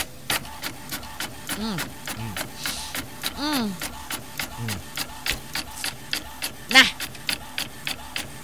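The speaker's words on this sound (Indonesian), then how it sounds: "Itu suara printer." A printer runs with rapid rhythmic clicks and whirring mechanical sweeps as paper feeds through, while a person speaks briefly over it.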